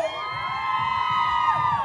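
An audience at a live Latin music event shouts and cheers loudly and continuously, with high whooping voices blended into a sustained crowd roar.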